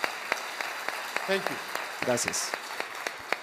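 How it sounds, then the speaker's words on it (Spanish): An audience claps for Fernando at a conference in Colombia, with light, scattered claps under a voice speaking. "Un fuerte aplauso para Fernando"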